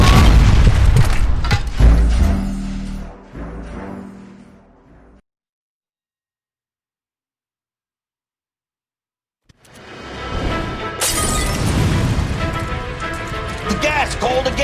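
A gas line explodes in the L.A. Noire video game: a loud, deep boom with crashing debris fades into a few seconds of total silence before heavy rumbling noise swells back in.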